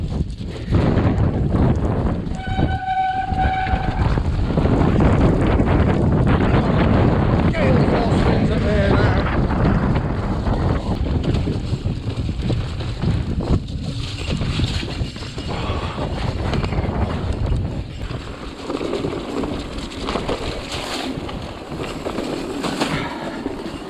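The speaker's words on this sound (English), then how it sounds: "Kind of feels like it is starting to dry up, but it's so windy." Strong gusting wind buffets the microphone throughout a wet, rainy mountain bike ride on trail, a loud continuous roar that swells and eases without pause.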